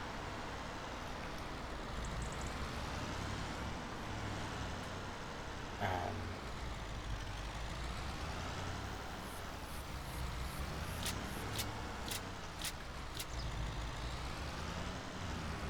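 Delivery truck pulling in on a farm in Farming Simulator 25: a steady low engine drone runs throughout, with a few short high beeps near the end.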